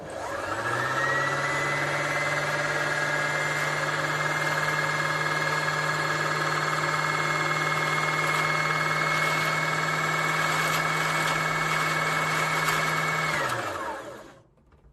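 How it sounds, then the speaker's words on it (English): A sewing machine winds its front-loading bobbin with a steady motor hum and whir that rises quickly, holds constant and close for about thirteen seconds, then spins down and stops. "if we turn it on the switch just here and press on the foot control, it should thread the bobbin forward"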